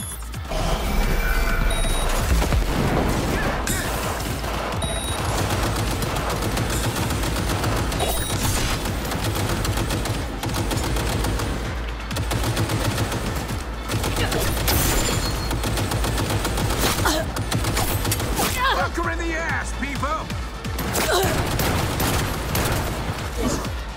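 Shotgun fire in the video game Cyberpunk 2077 during a fight against a mech, with loud blasts repeating over continuous battle noise and mechanical clatter, and voices breaking through now and then.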